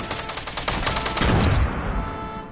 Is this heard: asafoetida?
no